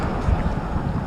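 Gusty wind buffets an outdoor microphone in a steady low rumble, with one stronger gust near the start and no other clear sounds.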